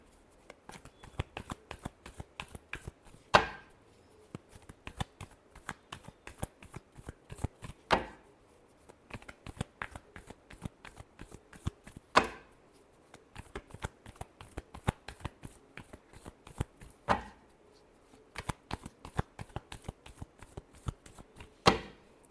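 Tarot cards being shuffled by hand: a steady run of rapid papery flicks, with a louder riffle burst roughly every four to five seconds. Nobody speaks.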